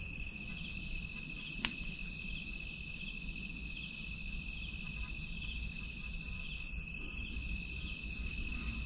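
Crickets chirp at night beside a quiet rural hut, a steady high, pulsing trill running through the whole stretch with a faint low rumble underneath and no voices.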